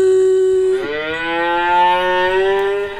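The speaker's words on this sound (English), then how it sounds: "What animal says Moo?" A cow gives one long, loud, close moo, a steady low tone that shifts pitch briefly partway through and then holds to the end, with no other sounds.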